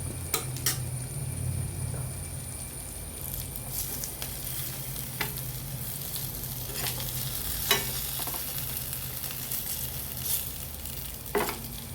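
Chicken pieces fry in a pan with a constant close sizzle and spatter, broken by occasional sharp taps and scrapes of a utensil against the pan over a low hum, with no talking.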